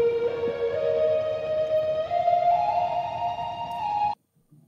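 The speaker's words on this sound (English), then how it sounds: "Very nice, very sort of electric guitar driven lead." An electric-guitar-style synth lead played from a MIDI keyboard holds one sustained, bright note that bends and climbs slightly for about four seconds before cutting off abruptly, heard alone.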